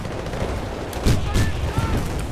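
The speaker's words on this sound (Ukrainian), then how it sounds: "Це що за мінометний удар якийсь чи що, я не поняв? Хтось з міномета стріляє?" Mortar and gunfire erupt in the Battlefield 2 game as a few heavy blasts land about a second apart over a rumbling battlefield bed, with explosions and a whistling streak layered in, and a player's voice talking beneath.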